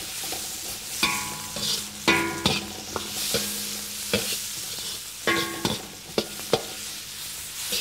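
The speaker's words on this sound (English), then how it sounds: "Now I cook the leek." Leek stir-fries in oil in a pan, a soft steady sizzle broken by sharp scraping and clacking strokes of a utensil at irregular intervals, close up with no speech.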